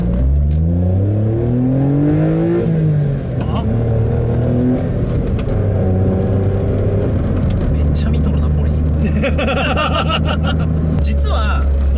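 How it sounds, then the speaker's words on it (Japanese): A car's engine pulls hard under throttle, climbing in pitch through several clean upshifts with steady stepped drones, heard from inside the cabin while people talk and laugh over it. "アクセル踏んでいきますよ"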